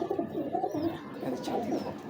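A pigeon coos softly up close, low throaty murmuring calls repeating in a gentle rolling rhythm, with faint background noise and no speech.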